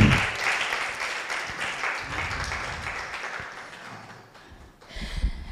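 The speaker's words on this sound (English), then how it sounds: "please a round of applause for yourselves" An audience at a celebration for women and girls in science applauds, a dense patter of clapping that starts fairly strong and gradually thins and fades toward the end.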